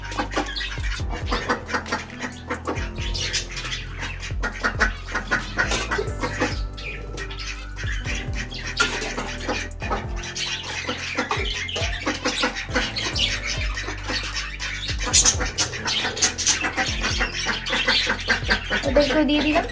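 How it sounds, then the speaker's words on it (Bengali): Pet finches call in their cage, a busy mix of rapid chirps and squawks from several birds close by, continuous over a low steady hum. "এই খাঁচাটিতে আমরা ফিঞ্চ পাখিগুলিকে রেখেছি"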